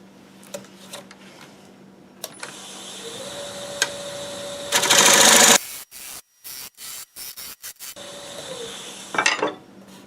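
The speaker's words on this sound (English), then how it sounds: "I'm going to hollow some of this out now and still leave this just to try to lighten it" Catalpa wood bowl being hollowed on a lathe: a steady whirring spin with a loud, rough scraping cut in the middle, then several short bursts of cutting separated by pauses before the spin resumes.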